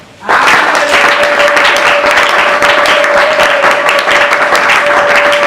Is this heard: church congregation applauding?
yes